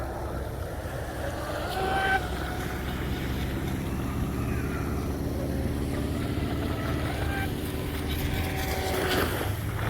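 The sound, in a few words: Kyosho Dolphin RC outboard boat motor running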